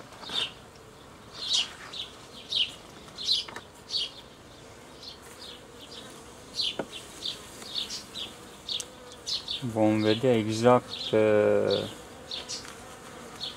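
Honeybees buzz around an open hive as a queenless colony is split into a nucleus, faint intermittent drones close by with someone speaking briefly near the end.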